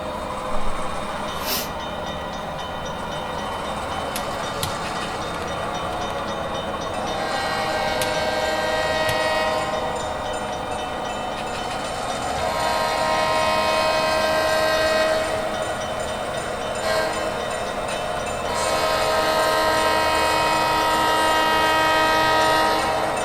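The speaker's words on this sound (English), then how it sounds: "So now we've got our train coming around the bend." A model train comes around a bend, rolling steadily with a low rumble and light clacking, its horn sounding in brief bursts at intervals over a continuous hum, with no talk.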